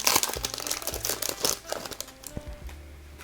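Foil wrapper of a Marvel Spider-Man play booster pack crinkling and tearing open up close, a quick run of sharp crackles and rustles, loudest at the start and thinning out over a few seconds.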